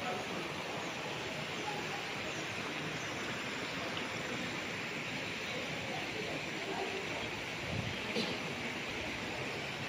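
Continuous broadband rush of a river flowing beside a resort in Liliw, Laguna, steady and moderately faint, with a voice faintly present.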